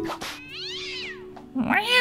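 A video game cat meows loudly and clearly in two long, rising-and-falling cries separated by a short pause, over a steady low background hum.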